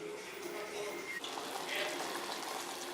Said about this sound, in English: Now you can see water is boiling.